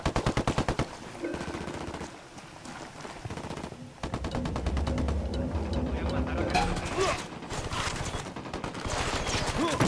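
Rapid automatic gunfire in the tactical shooter Ghost Recon Wildlands, dense bursts of close shots with brief pauses, mixed with speech.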